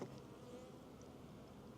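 Bees inside a mid-winter hive buzz in a faint, steady drone that hums softly and evenly throughout, with no voices.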